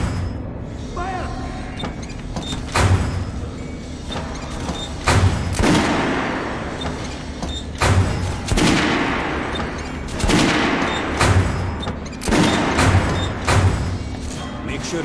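Gunfire in the Metro: Last Light Redux video game, repeated loud shots and bursts arriving every second or two with heavy thumps, mixed with game sound and voices talking.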